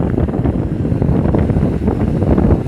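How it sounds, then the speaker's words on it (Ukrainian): Steady gusty wind rising over a farm field buffets the microphone outdoors, a constant low rumbling roar with no voices. "вітер починає підніматися"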